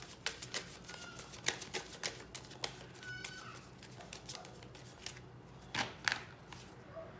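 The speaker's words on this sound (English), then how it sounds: "One more shuffle, and I take from the middle." Tarot cards being shuffled by hand, quiet and close, with soft papery riffles and sharp little card snaps in uneven bursts.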